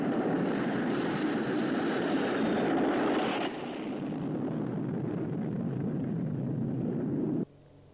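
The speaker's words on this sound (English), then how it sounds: "Beller Trijet, this is air control. You are cleared for takeoff." A Beller Trijet airplane takes off with a loud, broad roar of jet engines that holds steady, then drops abruptly in level partway through and cuts off sharply near the end.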